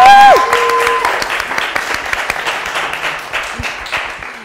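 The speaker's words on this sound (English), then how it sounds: "So let's give them a clap." Church audience applauding for a while, the clapping fading gradually after a brief tonal sound at the start, with scattered louder claps throughout.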